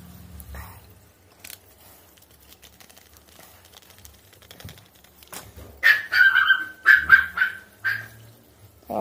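A dog barks several times in a quick burst, fairly close and loud, after a stretch of quiet scuffling and faint background noise.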